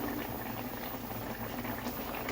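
Fish curry bubbling in a pot, with a faint, steady boiling burble and small pops that continue throughout.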